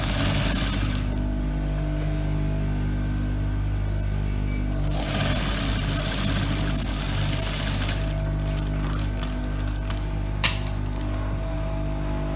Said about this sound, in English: then I'll sew it down with ½ inch, the way I sew the other leg